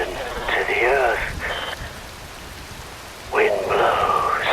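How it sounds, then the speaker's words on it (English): Steady rain hisses in the background of the action video game Metal Gear Rising: Revengeance, a constant wash of falling water beneath voices that speak over it near the beginning and end. "Wind blows, rain falls."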